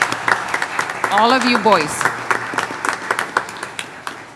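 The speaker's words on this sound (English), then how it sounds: "A big applause for the parents." An audience of parents and families claps steadily at a school boys' gathering, a sustained ripple of hand claps running throughout while someone speaks over it near the start.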